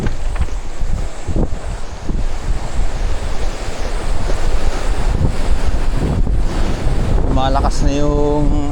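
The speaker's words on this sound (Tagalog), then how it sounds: "Malakas na yung alon eh." Strong ocean waves surge and wash over large rocks on a beach at Maragondon, a loud continuous roar with wind buffeting the microphone and a brief voice near the end.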